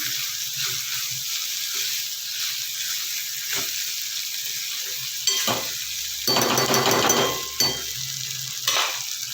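Hissing, crackling frying in a pan, steady and close, with a few louder bursts of sizzle and stirring scrapes; no talking.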